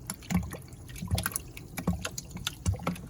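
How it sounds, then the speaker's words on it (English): Home-brew beer mix being stirred into water in a fermenting vessel, soft rhythmic sloshes and low swirling thumps about twice a second with faint drips, close and quiet, no voices. "Stir this until it's all dissolved."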